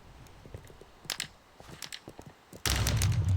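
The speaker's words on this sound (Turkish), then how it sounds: "Oha patladı." A Minecraft creeper, from a modded game, explodes with a sudden loud burst after a stretch of quiet clicking and small game sounds.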